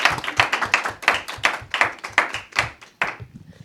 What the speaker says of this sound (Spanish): Despedimos a Estel con un fuerte aplauso